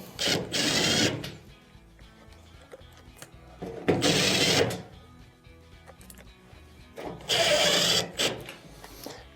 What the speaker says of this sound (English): let's go ahead and reinstall the 3 screws